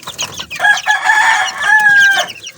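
Chickens and chicks cluck and call while being fed, with bright, overlapping calls that run almost continuously and sit close and fairly loud.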